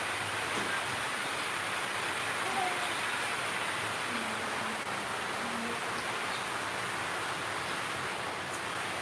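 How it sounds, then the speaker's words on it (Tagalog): Rain falls on a wet morning as a soft, even hiss that holds steady for several seconds, with faint voices murmuring in the background. "Umuulan!"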